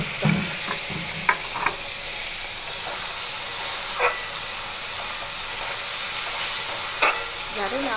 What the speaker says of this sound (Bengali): সামান্য একটু জল দিয়ে দিই।